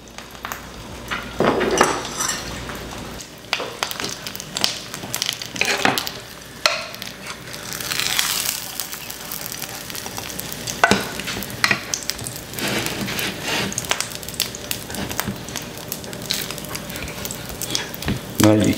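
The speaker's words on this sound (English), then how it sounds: "Well, it's cooking like real eggs." Rehydrated freeze-dried eggs fry in olive oil in a pan, giving a steady close sizzle broken by scrapes and clinks of a utensil moving through the pan.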